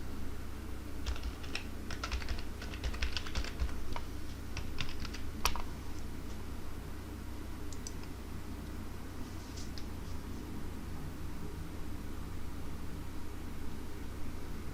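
Password being typed on a computer keyboard, a short run of light key clicks near the start and a few scattered taps later over a steady hiss of background noise.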